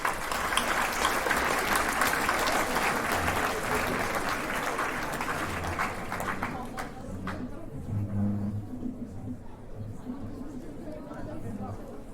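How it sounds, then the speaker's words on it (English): Applause for guest speakers at a Model United Nations opening ceremony, a full crowd clapping steadily that thins and fades after about seven seconds, leaving murmuring chatter and low room rumble. "give a big round of applause again to all our guest speakers this morning"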